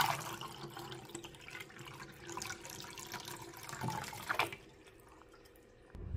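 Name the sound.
water being poured into a countertop ice maker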